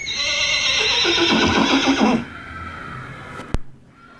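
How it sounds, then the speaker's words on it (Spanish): Horses neighing loudly in a stable: a long, harmonic whinny from a foal rings out close and alone for about two seconds, then fades, followed by a sharp knock and quiet. "Qué bonitos esos relinchos. Y la que le está contestando es la mamá, es otro caballo"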